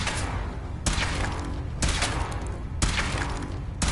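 Gunfire during a power armor suit test in Fallout 4: four loud, sharp shots spaced about a second apart, each ringing over a constant rumbling background.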